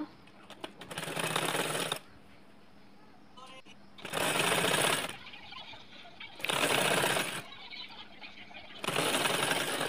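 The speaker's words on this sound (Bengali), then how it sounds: "এখন আমি এটাকে সেলাই দিয়ে নেব" A sewing machine stitches palazzo trouser fabric in four loud, rapid mechanical bursts of one to two seconds each. Quieter pauses between the runs carry faint handling noises and a soft voice.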